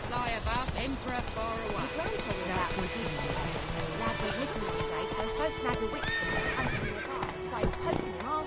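Roach, Geralt's horse in the video game The Witcher 3, galloping with quick rhythmic hoofbeats and a loud neigh, while people talk over it and music plays underneath.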